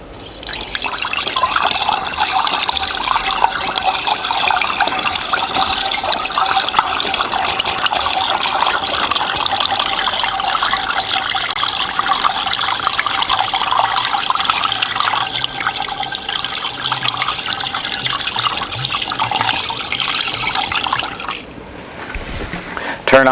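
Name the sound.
chlorinated water being poured into a countertop batch freezer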